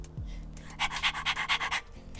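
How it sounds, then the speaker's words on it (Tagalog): Teddy, a pet dog, pants close to the microphone in a quick run of about ten short, breathy huffs over a quiet room. "sama natin sa podcast yung aso ko"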